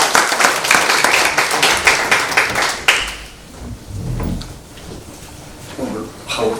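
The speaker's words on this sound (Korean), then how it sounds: "우리 크게 한번 박수" An audience claps after a lecture in a loud burst of applause that fades out after about three seconds, followed by quieter room noise and scattered sounds.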